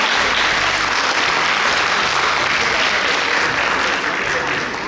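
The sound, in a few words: audience applause welcoming presenter at forum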